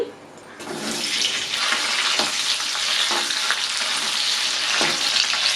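Ten slit green chillies drop into hot oil in a kadai and erupt into a loud, close, continuous sizzle and crackle that holds steady throughout.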